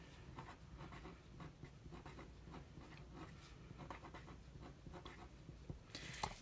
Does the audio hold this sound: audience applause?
no